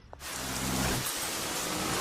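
Heavy rain pours down in a dense, constant hiss that starts abruptly after a brief quiet moment and holds steady and loud.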